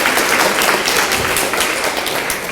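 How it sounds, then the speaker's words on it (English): An audience applauding at a vegan fitness panel event, dense continuous clapping from a crowd, loud and close throughout. "Can we get a round of applause for Delilah?"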